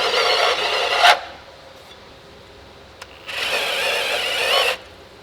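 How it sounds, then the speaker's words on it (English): A multi-flute deburr bit cuts the edge of a drilled hole in metal in two separate bursts of harsh scraping whir, close by, with a brief tick between them. "Nice little deburring."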